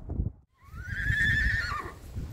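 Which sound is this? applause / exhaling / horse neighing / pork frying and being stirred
horse neighing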